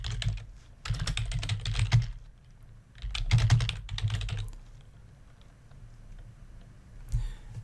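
Alt text being typed on a computer keyboard, bursts of rapid key clicks close by, separated by short pauses, with quieter room noise after.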